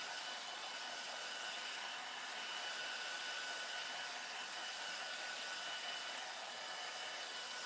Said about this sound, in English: What would we do without our hair dryers when we're doing these live?